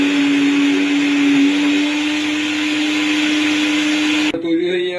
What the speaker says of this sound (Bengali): দিয়ে আবার ভালোভাবে পিষে নেবো এটাকে।